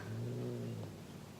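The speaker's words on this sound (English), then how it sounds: "I'm sorry if you hear my cat growling" A big house cat growls at a young kitten, a low sustained rumbling snarl held close and fairly loud for about a second before easing off.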